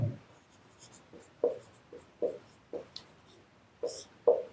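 Marker or chalk strokes on a classroom board during a lecture give a string of short scratchy squeaks and taps in an irregular rhythm, close but faint, with no talking over them.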